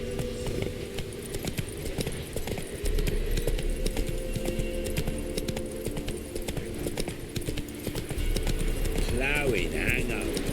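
Roach the horse's hooves in The Witcher 3, a steady clip-clop of walking steps running throughout under spoken dialogue, with a brief snort or whinny near the end.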